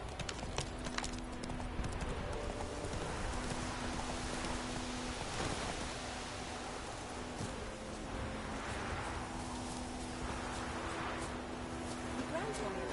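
Roach the horse gallops in The Witcher 3, a steady, loud clip-clop of hooves running continuously throughout, with a voice speaking over the hoofbeats.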